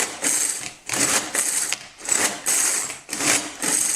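A small hand-cranked vegetable chopper grinds and clatters through an apple in several quick bursts separated by short pauses, its blades giving a ratcheting, mechanical whir up close.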